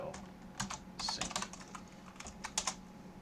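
Someone types on a computer keyboard to search for documentation, a near burst of quick key clicks that pauses and resumes, with faint background speech.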